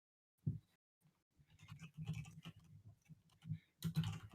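Computer keyboard typing in irregular bursts of clicks and taps, fairly close and alone, with short pauses between flurries.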